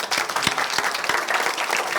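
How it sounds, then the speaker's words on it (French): An audience applauding a comic book author at an evening event, a dense continuous patter of many hands clapping at close range. "Donc je vous propose de l'applaudir aussi."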